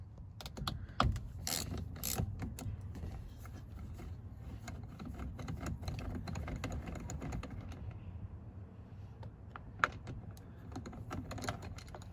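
A ratchet backs out 10mm bolts from a Mazdaspeed Protege steering wheel, giving rapid clicking runs in bursts with a few sharper knocks, close but fairly quiet, with no speech.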